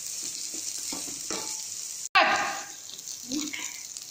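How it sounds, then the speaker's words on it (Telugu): Sliced radish sautéing in hot oil in a pan for a radish pachadi, a bright close sizzle with a sharp crackling burst partway through, then steady frying with light stirring. "ఇలా ముల్లంగి బాగా వాట్ చేసుకున్నాను ఆయిల్లో"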